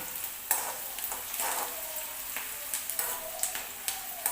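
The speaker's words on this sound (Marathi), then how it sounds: "कांदा आपला भाजतोय व्यवस्थित भाजून घ्यायचे" Onion frying and being stirred in a pan for a chickpea dish, a steady close sizzle with scraping stirs and small pops throughout, no speech.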